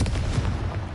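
A Confringo blasting spell cast in Hogwarts Legacy, heard as a single deep, sustained boom with a rumbling low end lasting about a second.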